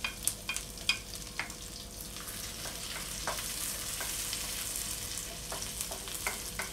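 Macaroni spaghetti with hotdog and ground meat sizzles in a pan while a utensil scrapes and stirs it, giving steady frying hiss with scattered sharp clinks and scrapes.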